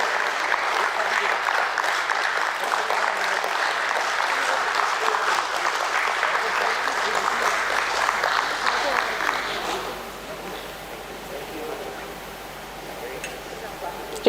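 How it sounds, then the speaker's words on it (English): A crowd's dense, sustained applause fills a stock exchange listing ceremony at BSE for Network People Services Technologies Limited, then thins and fades out after about ten seconds. "Can we have a huge round of applause as Radha ma'am presents the memento"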